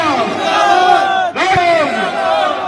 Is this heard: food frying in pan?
no